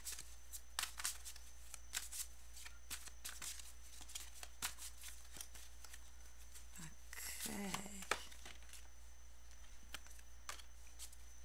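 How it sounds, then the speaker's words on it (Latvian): Tarot cards shuffled and drawn by hand, giving a run of soft, repeated riffling clicks and snaps at close range, with a brief burst of handling noise near the end under a faint steady hum. "Kārtiņas ir izvilktas."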